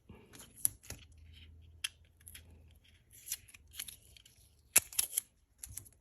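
Masking tape peeled off a harmonica, giving sporadic short crackling rips and small handling clicks, close and quiet with no talk.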